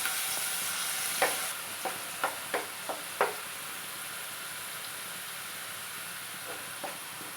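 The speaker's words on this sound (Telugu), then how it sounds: "ఇందులో కాస్త పసుపు వేసి ఉల్లిగడ్డ పచ్చివాసన పోయేంత వరకు ఫ్రై చేసుకోవాలి" Onion paste with turmeric fries in oil with a steady, soft sizzle, broken by a series of short scraping stirs of a spoon in the pan.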